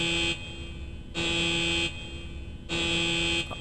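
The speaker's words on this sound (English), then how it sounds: "loud beeping noise" A loud electronic beeping tone from the Breath of Fire III video game, pulsing on and off in three long, steady bursts with a shrill, buzzer-like timbre and no talking.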